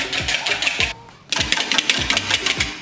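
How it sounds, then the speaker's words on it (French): Egg whites being whisked by hand for a lemon meringue tart, a fast steady beat of whisk strokes against a bowl, close and loud, with one short pause partway through. "on va commencer à monter les blancs tranquillement"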